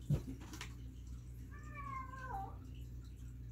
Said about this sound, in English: Don't mind my cat, she's just a weirdo.